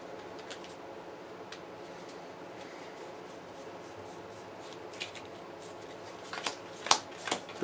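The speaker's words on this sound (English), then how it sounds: "I just want to give it a kind of good shuffle." Cards from the Pathfinder Adventure Card Game are shuffled close up in a steady riffling, rubbing stream that ends in a few sharper snaps and taps toward the end, with no one talking.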